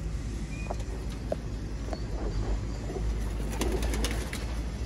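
Breeder pigeons and their young chicks coo at close range, with soft, repeated low calls over a faint background hum and no speech.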